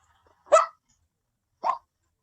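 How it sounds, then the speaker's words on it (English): A dog gives two short, sharp barks about a second apart, close by, with silence around them. "I heard your dog. Is he sleeping or is he barking, Andre?"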